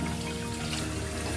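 Tap water runs steadily from a faucet as eggs are washed, a continuous close splashing stream with no talk.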